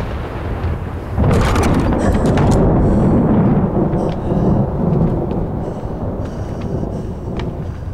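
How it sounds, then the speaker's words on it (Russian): Thunder from a gathering thunderstorm rolls in as a loud, sustained rumble that swells after a second and keeps grumbling with a faint hiss of rain and wind, no voices present. "О, гром гремит. Гроза что-то собирается."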